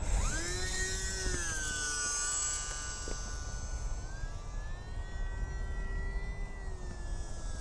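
An E-Flite UMX Timber RC airplane flies in the wind, its small electric motor giving a continuous high-pitched whine that rises and falls slightly in pitch over steady wind noise, fairly close and without speech.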